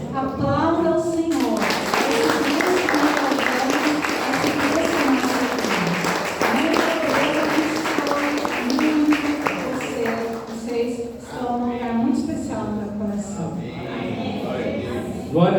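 Congregation clapping during a church healing service, rhythmic hand claps mixed with voices and singing over the top.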